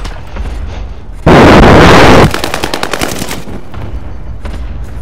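Loud bursts of automatic gunfire in Call of Duty: Warzone, with an MP40 submachine gun in play: a dense, sustained volley up front followed by rapid, rattling shots that fade into background game noise, no voices.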